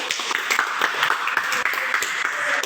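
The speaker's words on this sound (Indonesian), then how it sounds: "Tepuk tangan untuk kita semua." A small group in a counseling session claps together in a brief burst of dense, lively applause, close by and steady for a couple of seconds.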